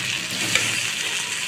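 Onions frying in a pan with ginger paste and spices added: a dense, steady sizzle that fills the short stretch, close and fairly loud, with one brief clink partway through.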